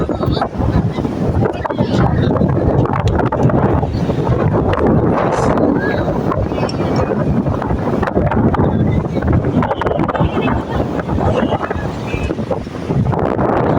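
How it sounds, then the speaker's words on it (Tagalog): Strong wind buffets the microphone in heavy, gusty roars on Kalanggaman Island, Leyte, with surf and faint voices underneath. "Hangin. Parang may bagyo dun"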